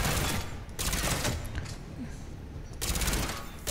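Rapid bursts of automatic gunfire from the Mass Effect 3 video game, two loud volleys separated by a quieter gap, with no talking over them.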